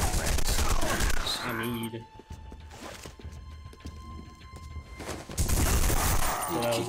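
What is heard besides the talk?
gunfire in video game The Punisher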